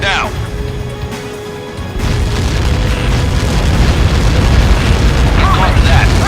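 A Helios missile strikes in Ace Combat 7, a deep, sustained explosive boom rolling and swelling louder over several seconds, with radio voices talking over the blast.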